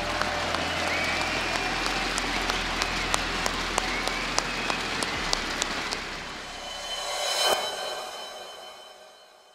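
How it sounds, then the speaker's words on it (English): A crowd applauding steadily, a dense wash of clapping that swells and then fades out. "I think that we should all clap for them now"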